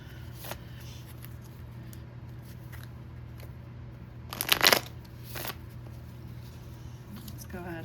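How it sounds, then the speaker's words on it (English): Tarot cards being shuffled: a few soft riffling bursts, the main one a loud crisp flutter of about half a second midway, with lighter card rustles around it over a steady low hum. "I'm gonna go ahead and shuffle a few more times here."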